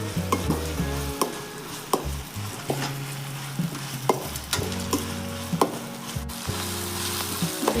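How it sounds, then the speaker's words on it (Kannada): Boiled field beans (avarekalu) sizzle in hot oil while a spoon stirs them, scraping and tapping the pan at irregular intervals over a continuous close fry. "ಬೇಯಿಸಿರೋ ಅವರೆಕಾಳನ್ನ ಮತ್ತೆ ಎಣ್ಣೆಗೆ ಹಾಕ್ಕೊಂಡು ಫ್ರೈ ಮಾಡ್ಕೊತಾ ಇದ್ದೀನಿ."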